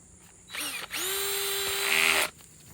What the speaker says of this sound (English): we're going to try and drill down beside it